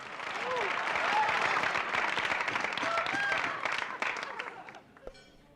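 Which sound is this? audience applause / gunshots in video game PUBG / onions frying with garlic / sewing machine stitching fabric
audience applause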